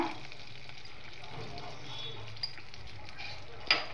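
Cumin seeds sizzling in melted ghee over low gas heat, a faint steady crackle with a couple of light clinks from the pan.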